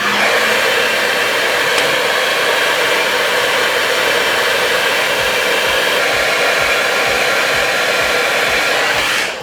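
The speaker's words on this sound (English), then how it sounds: "Now what I do is I blow dry it on one side, I blow dry it on the other side" A hair dryer blows steadily and loudly while drying bangs, a constant whooshing roar with no pauses that cuts off right at the end.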